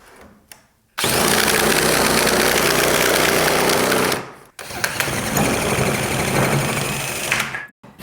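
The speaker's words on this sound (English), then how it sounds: "this is definitely the best tool to cut hardy backer." A loud, steady power tool whines as it cuts through Hardie backer cement board, running continuously for about three seconds, stopping briefly, then cutting again at a slightly lower roar.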